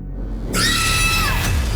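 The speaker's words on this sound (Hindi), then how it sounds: "जब आपको फ़ोन पर किसी के चीखने की आवाज़ सुनाई दी" A sudden loud, sustained scream bursts out over a phone line after a dull low rumble, harsh and close for about a second before fading.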